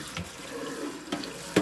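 Water runs steadily from both spigots of a kitchen faucet into the sink, a constant rushing flow with a few brief splashes and clatters, close by.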